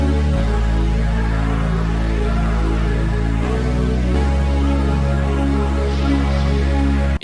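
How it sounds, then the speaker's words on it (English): An analog lap bass plays sustained low notes following a beat's chord changes, shifting pitch a few times, loud and continuous with no talking. "Next thing that I grabbed is this analog lap bass."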